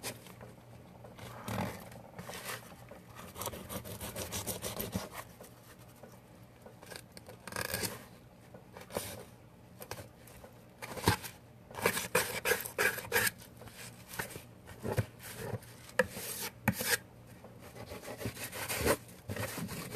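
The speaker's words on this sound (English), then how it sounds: "So I made my cuts along the back fin just like that. I always make that first cut on both sides before I do anything." A knife slices along the back fin of a walleye fillet, producing close, irregular scraping and rubbing strokes in quick bursts that grow busier toward the end, with no talking.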